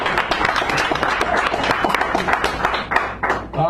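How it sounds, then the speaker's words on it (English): A cafe audience at a San Francisco poetry hour applauds a poet, scattered close hand claps with uneven rhythm over several seconds, fading slightly toward the end. "Richard Sanders, give him a round of applause."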